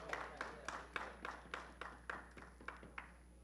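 A small audience at a health talk claps in a sparse, fairly regular rhythm of distinct hand claps, faint and slightly distant, over a low steady hum.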